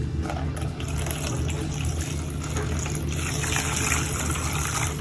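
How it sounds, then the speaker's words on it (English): Vinegar poured steadily over an egg in a container, a continuous close liquid stream running throughout with faint talk in the background. "just pour enough vinegar to cover the egg"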